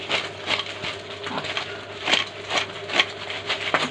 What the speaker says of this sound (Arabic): سامعين الخرفشه؟